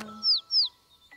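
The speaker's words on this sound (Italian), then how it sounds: "Oh, un uccellino." Cartoon baby bird freshly hatched from an egg gives two clear, bright chirps in quick succession, then a faint third note, with no talk.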